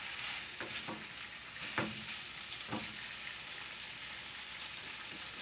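Pepper chicken sizzles steadily in a hot pan while a spoon stirs it, giving a few sharp scraping knocks over a constant frying hiss. No one speaks.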